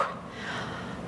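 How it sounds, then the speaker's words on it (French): A single long, audible breath with a soft airy rush, close to the mic, taken during a Pilates inner-thigh toning exercise. "On inspire et on expire"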